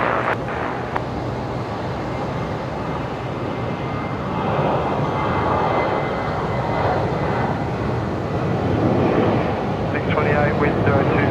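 An airliner takes off from runway 01 left at Brisbane Airport at night, a broad jet roar that holds steady and swells slightly toward the end, with faint voices beneath it.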